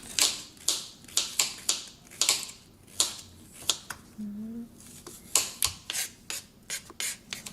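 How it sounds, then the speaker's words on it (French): A knife cuts spring onions into small rounds on a cutting board, making a steady series of crisp, close chopping taps with a short pause partway through, while people talk quietly. "On coupe juste en petits rondelles."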